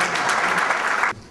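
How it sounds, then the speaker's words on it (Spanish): An audience breaks into a short burst of loud, close applause at a ceremony of Clínica Pergamino, then it stops abruptly. "es el doctor Ricardo Pico, y pido un fuerte aplauso también"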